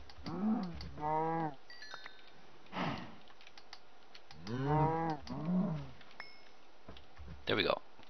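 Cows in modded Minecraft, giving several drawn-out, pitch-bending moos one after another at moderate loudness, with a short burst of keyboard typing between them.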